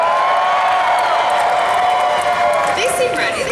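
Audience at the L.A. Comic Con 2022 Cosplay National Championship cheering and whooping loudly in a dense, continuous roar that fills a large hall, with shrill yells rising near the end.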